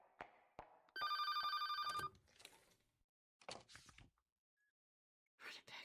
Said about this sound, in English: the moment I heard the ringtone